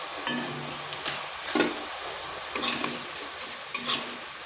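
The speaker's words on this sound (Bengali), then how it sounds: "মশলাটা ভালো করে একটু কষিয়ে নিচ্ছি" Ground cumin, coriander, turmeric and chili powder fry in a pan while being stirred, a low sizzle broken by repeated scraping strokes of a spatula at an irregular rhythm.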